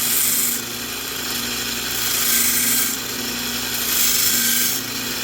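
A belt sander with an aggressive belt grinds against Micarta knife handle scales in repeated passes, a hissing rasp that swells and eases rhythmically over a steady motor hum, close up.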